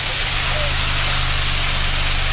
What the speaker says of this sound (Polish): Leci na nas wodospad.